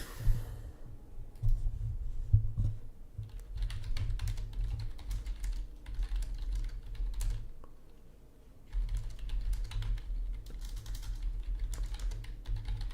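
Continuous, close typing on a computer keyboard during a Total War: Warhammer 2 online multiplayer match, with rapid clustered keystrokes, a brief lull in the middle, then the typing resumes.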